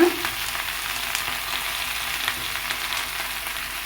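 Gongura leaves frying in a hot pan give a steady, close sizzle throughout, with a brief louder crackle right at the start as they go into the oil.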